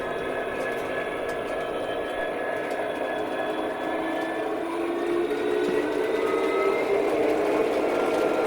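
A model railway locomotive runs along its track with a steady, even hum and a faint high whine, close by and continuous, with no voices.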